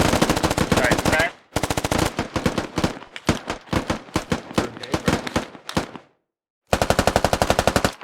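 Bursts of rapid automatic gunfire during outdoor squad fire-team training, loud and close, coming in long strings of sharp shots separated by a couple of brief pauses.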